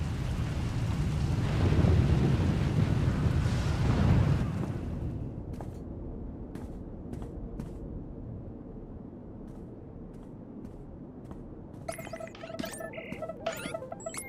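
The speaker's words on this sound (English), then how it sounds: "Looks like the storm's not letting up anytime soon." Stormy weather in the Star Wars: The Old Republic video game, a loud rumbling roar of wind and thunder for the first few seconds that eases into a steady rain-like wash, with faint electronic beeps near the end.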